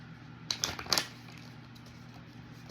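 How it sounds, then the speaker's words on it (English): Oracle cards get a brief, soft shuffle for a reading, a few quick papery riffles close by in a quiet room, then near silence. "I'm gonna do a little shuffle."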